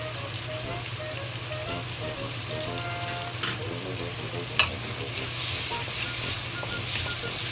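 Cucumber and carrots stir-fry in a wok, a soft, continuous sizzle broken by a couple of sharp utensil knocks and scraping stirs, heard up close without talking.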